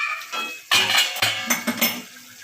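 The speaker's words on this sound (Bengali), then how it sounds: "একটু নাড়াচাড়া করে দিই," A metal spoon scrapes and clanks against a cooking pot as chicken marinated in sour yogurt is stirred, giving a few sharp, close clinks and knocks over a couple of seconds.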